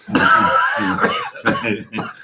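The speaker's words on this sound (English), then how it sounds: "I've been coughing nonstop" Several rough, throaty coughs come in quick bursts, close and fairly loud, one after another.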